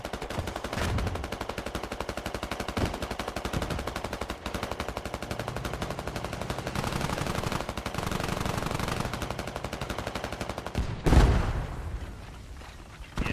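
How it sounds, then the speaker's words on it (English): Russian tank machine-gun fire in the video game Squad, a continuous rapid rattle of shots lasting over ten seconds, loud and close, ending in a heavier blast followed by quieter rumble. "Great shooting here from the Russian tank."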